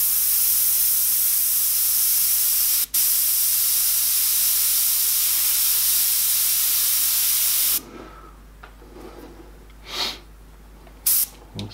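An airbrush sprays sepia paint in a loud, steady hiss lasting nearly eight seconds, broken once by a brief gap, then cutting off into quieter short bursts of spray.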